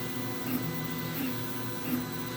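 A VzBoT 3D printer with an experimental hotend printing at high flow, giving a steady motor whine and hum with faint repeating higher chirps roughly every half second, close and continuous.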